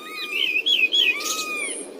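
Cartoon crow calling in the morning sun, a series of bright chirping, warbling calls rising and falling over about two seconds, fairly close and alone with no talk.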